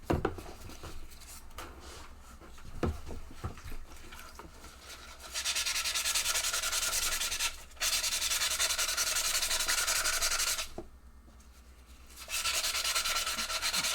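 Steady scratchy rasp of fine sandpaper rubbing a small wet aluminum foil ball, continuous strokes with a couple of brief pauses, close and fairly loud.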